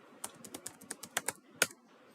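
Keys tapped on a computer keyboard while a name is typed, about ten quick, crisp clicks in an uneven rhythm, close and fairly quiet, with one sharper louder stroke near the end and no talking.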